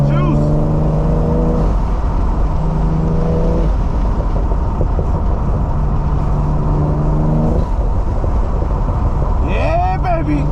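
A BMW M340i on a race track revs hard and accelerates in loud, rising bursts, with three surges climbing in pitch separated by brief drops, ending in a quick final rev.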